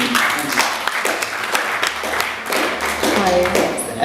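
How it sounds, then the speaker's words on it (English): An audience at a Black Panther solidarity event claps in a steady patter of applause at moderate distance, continuing for several seconds with a faint voice near the end. "Round of applause, please, for Brother Adam as well."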